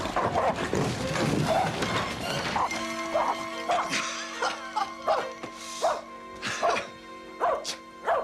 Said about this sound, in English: Surely not frightened of a tiny little dog